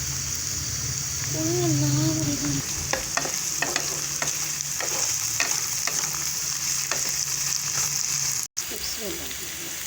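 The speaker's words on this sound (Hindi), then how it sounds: "प्याज डाल दिया। प्याज को मैं ज़रा से मिक्स करती हूँ।" Chopped onions sizzle loudly in a hot pan while being stirred, a constant frying hiss broken by repeated scraping strokes of the spoon, with a short tonal voice-like sound early on.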